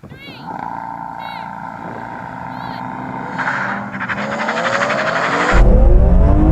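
BMW M3 cars launch in a drag race, the engine note climbing steadily, then a loud surge near the end as the cars pull away, with a voice speaking over the noise.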